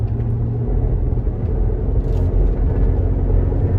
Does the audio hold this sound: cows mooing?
no